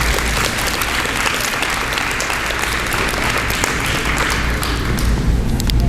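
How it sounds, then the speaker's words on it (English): Loud, sustained audience applause at the 2023 Lee Central High School athletic awards program, a thick, even roar of clapping hands from a crowd with a steady low rumble underneath, lasting the whole stretch without speech. "All right, give them a round of applause."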